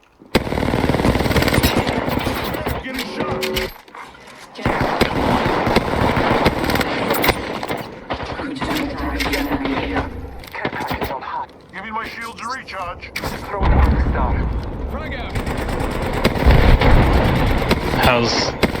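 Video game gunfire in Apex Legends Arenas, with dense bursts of rapid automatic shots and impacts rattling through most of the stretch, loud and close, mixed with game sounds and a person talking over it.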